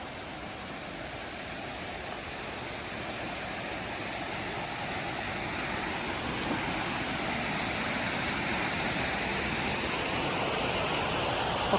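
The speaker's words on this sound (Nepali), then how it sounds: "झर्नाको चिसो पानीमा" Steady, full roar of water pouring down the Tarevir Jharna waterfall on a hike in Nepal, a broad continuous rush that holds constant and grows slightly louder toward the end, with no voices.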